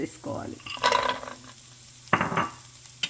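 Methi balls being stirred into a curry frying in a pan, with two bursts of scraping and sizzling stirring separated by a quieter stretch of low simmering.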